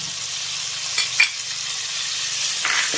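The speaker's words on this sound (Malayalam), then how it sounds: "അതിലേക്ക് ചതച്ച് വെച്ചിരുന്ന പേസ്റ്റ് ഇഞ്ചി ഇടുക." Crushed ginger paste sautéing in hot coconut oil for a Kottayam-style fish curry, a steady close sizzle with a couple of brief utensil taps, no talking.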